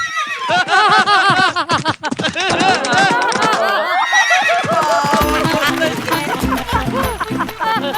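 A horse whinnies loudly as a sound effect in a televised comedy sketch, with wavering, repeated neighs that give way to a dense, busy clatter of sound.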